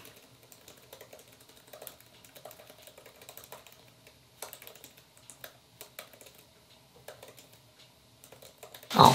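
Steady typing on a computer keyboard beside a fire while writing, a quiet, continuous patter of close key clicks that ends in a sudden louder noise.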